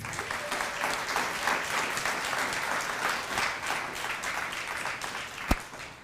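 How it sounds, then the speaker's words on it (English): Graduates and guests at a multicultural graduation celebration clap for themselves, a steady, full round of applause from a large crowd, moderately distant, with one sharp louder clap near the end. "May you all give yourself a round of applause"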